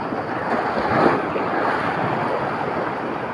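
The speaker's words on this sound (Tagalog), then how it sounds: "Lakas pa naman ang alon puti ang alon, lakas." Large white-capped ocean waves roar in a continuous broadband wash on a fishing trip at sea, heard close and loud with heavy wind buffeting the microphone.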